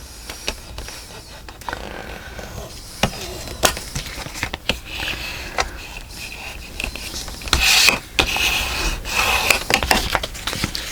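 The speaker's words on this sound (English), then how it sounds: "Let's burnish that one down." Bone folder or burnishing tool rubbed firmly over paper on a Stamperia Blues mini album spine, a series of close, scratchy rasping strokes with small taps and rustles, no voices.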